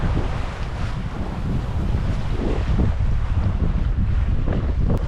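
A sailboat moves under sail in a beam wind of about 10 knots at sea, heard as loud, steady rushing wind buffeting the microphone over low water and hull noise, with no talking.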